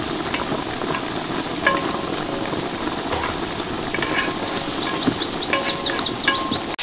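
Nine onions sautéed in a pot outdoors for a camel head curry: a loud, continuous sizzle with stirring scrapes, while birds chirp in the background toward the end.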